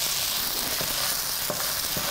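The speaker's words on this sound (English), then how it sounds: "Now give your onions another stir." Onions sizzle and fry steadily in a pan, close and fairly loud. A few soft scraping knocks mark them being stirred.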